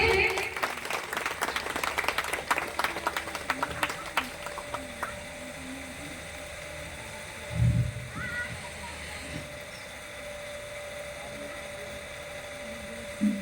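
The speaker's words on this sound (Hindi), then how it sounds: "तो आप लोग जोरदार तालियों से सर का सम्मान करेंगे।" An audience at a women's empowerment centre inauguration claps for an honoured guest, a thick patter of applause in the opening seconds that thins and fades into a steady low murmur with faint voices.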